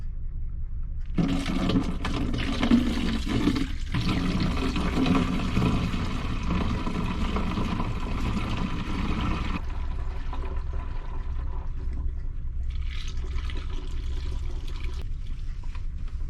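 Blue toilet liquid pours through a funnel into a 4-litre container in a long continuous gush, then tapers into a thinner trickle with brief gurgles near the end.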